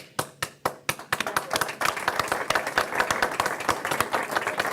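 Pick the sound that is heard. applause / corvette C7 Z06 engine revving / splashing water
applause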